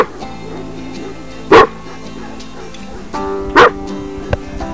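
A dog at a kennel gives two loud, sharp barks close by, spaced about two seconds apart, over a quiet background with a faint whine or yip near the end.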